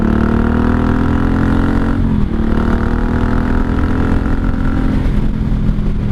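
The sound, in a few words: 1983 Honda Shadow VT750C motorcycle engine while riding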